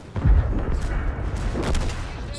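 Heavy booming gunfire from a T-10 tank's large cannon in a game, a dense rumbling barrage with repeated blasts and low thuds throughout.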